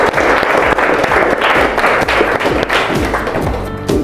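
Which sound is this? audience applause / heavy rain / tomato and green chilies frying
audience applause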